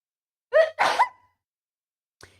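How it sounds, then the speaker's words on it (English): One person lets out a sneeze up close, a sharp two-part burst with a quick gasping intake and an explosive release, then a faint breath or sniff after a short pause. "I'm gonna sneeze"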